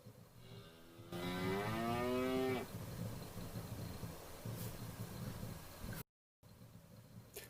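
A cartoon cow in a Tynker coding animation lets out a single long, loud moo, wavering in pitch, set against a steady hum of background noise with a short dropout near the end.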